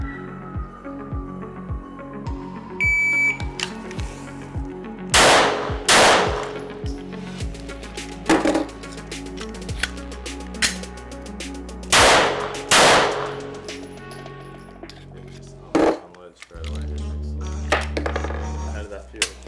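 Gunshots from a firearm at a shooting range, a few loud sharp cracks in separate bursts with pauses between, under people talking.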